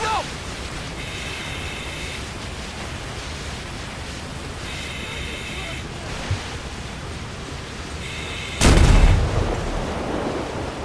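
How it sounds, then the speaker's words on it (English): Explosions in the LSPDFR video game during a fire-engine shift: one sharp, loud blast near the end stands out over a steady hiss of wind-like noise, with a softer thud just before it. "Trying to figure out where the explosions are coming from."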